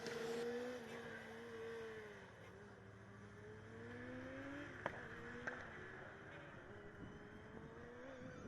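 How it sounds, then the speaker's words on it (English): A Formula Student race car running an endurance event at Formula Student Germany 2015 gives a steady, distant engine drone that shifts in pitch, broken by a couple of sharp, brief backfire pops near the end. "It sounds like they're still having those backfires."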